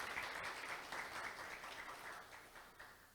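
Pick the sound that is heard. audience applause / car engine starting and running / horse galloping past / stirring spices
audience applause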